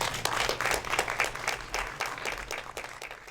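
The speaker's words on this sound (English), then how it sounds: "So let's give everybody a big round of applause." A crowd applauding volunteers at a city event at a mansion, with dense steady clapping that holds for a few seconds and tapers slightly, moderately distant.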